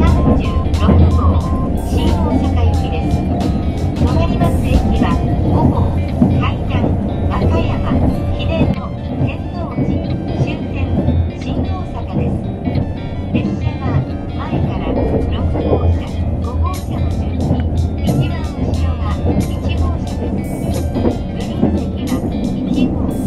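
Interior of a 287 series Kuroshio limited express, the Panda Kuroshio, running between Shirahama and Shin-Osaka in a Green car: a steady, loud rolling rumble with rail noise throughout, with voices over it.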